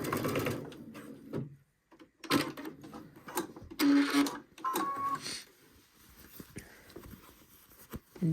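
A sewing machine runs a seam up a suit jacket sleeve in several short, stop-start bursts of quiet mechanical stitching, close and fairly soft, separated by brief pauses.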